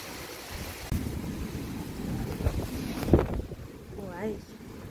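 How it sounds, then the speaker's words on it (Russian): Strong typhoon wind gusts at night buffet the microphone in irregular surges and rumbles, with a louder gust near the end, all at moderate level. "Ветер усиливается."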